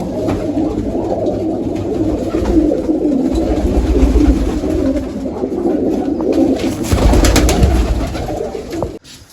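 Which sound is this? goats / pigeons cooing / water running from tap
pigeons cooing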